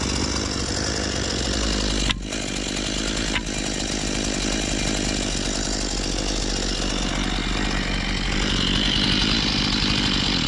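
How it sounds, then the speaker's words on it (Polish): A power saw runs loud and close while cutting wooden boards for house foundation formwork. It drones continuously with two brief dips in the load. "Na razie zgaszę sobie piłę."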